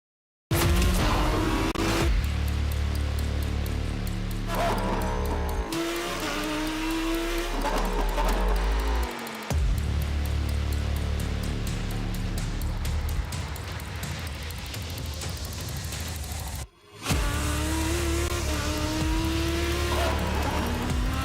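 Lamborghini race car engine driving hard around the Catalunya circuit, loud and close, with rising revs through the gears, brief lifts and tire squeal, running continuously for about twenty seconds.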